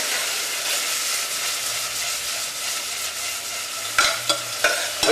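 Ethiopian-style vegan lentils sizzle steadily in a pan while being stirred, a continuous close frying hiss with a few sharper scrape and clack accents near the end, no voices.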